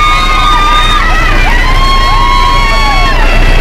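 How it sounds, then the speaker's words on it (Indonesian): A crowd of families cheers and whoops as returning hajj pilgrims step off a transport bus before entering the reception hall, with loud continuous babble and shouts mixed with nearby vehicle noise. "Sorakan penjemput terdengar saat jemaah haji turun dari bus angkutan sebelum memasuki aula"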